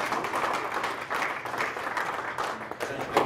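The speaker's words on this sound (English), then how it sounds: "And we can applaud" An audience at a Kiwanis club meeting breaks into brief applause, a dense patter of many hands clapping together at moderate volume.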